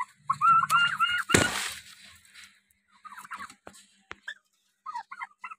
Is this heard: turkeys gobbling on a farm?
yes